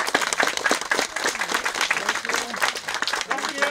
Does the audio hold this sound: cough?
no